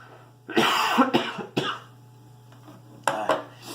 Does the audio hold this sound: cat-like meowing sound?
no